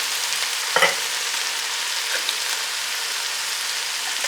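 Canned Rotel tomatoes with chilies are poured into a hot Brunswick stew pot and stirred, giving a steady, close sizzling hiss with one brief thump near the start.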